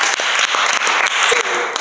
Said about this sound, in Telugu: give a round of applause